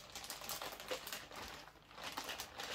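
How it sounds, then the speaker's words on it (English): Teeth tearing open a plastic bag from a 1/72 scale Airfix Phantom FG1 model kit, close crinkling and ripping plastic in quick irregular bursts, fairly loud with no talk. "I'll tear the bag open"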